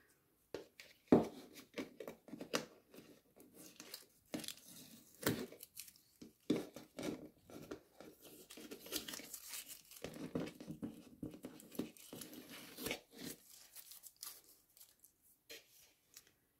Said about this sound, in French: Je vais enlever les petits scotch de derrière.